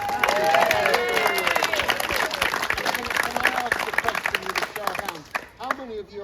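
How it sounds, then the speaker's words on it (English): An audience at an author's book talk claps in a scattered round of applause that fades out after several seconds, with a voice heard over the start. "can we give Helen a big round of applause"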